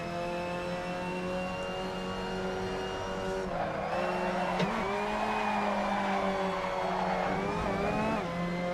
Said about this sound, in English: Let's do a little drifting.